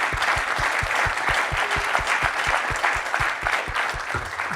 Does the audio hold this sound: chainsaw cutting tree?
no